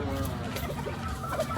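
Golden boy gamefowl rooster, a breeding bird on a farm in Tagaytay, giving low, steady clucks close by, with a couple of brief sharper calls near the end.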